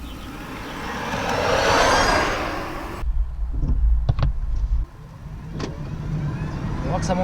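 A 2014 Smart Electric Drive electric car pulls away, its soft motor whine and tyre roar swelling then easing, heard from inside with a few faint clicks and knocks.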